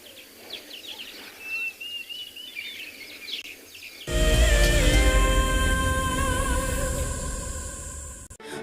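A cuckoo and other birds call at sunrise in a safari setting on the Tswalu reserve, with faint whistled notes first, then a louder dense stretch of overlapping bird song and chirps close by.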